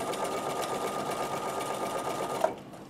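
A Bernina sewing machine fitted with a number 6 foot stitches in a steady, close, continuous whir that stops abruptly just before the end.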